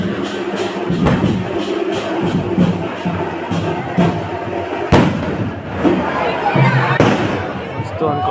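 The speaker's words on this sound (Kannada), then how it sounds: "ಇನ್ನೊಂದು ಸರ ಪಟಾಕಿ ಹೊಡಿತಾವ್ರೆ." Diwali firecrackers burst at a village fair, with sharp loud bangs at irregular intervals over a continuous crackle and crowd noise, heard from a rooftop while people talk.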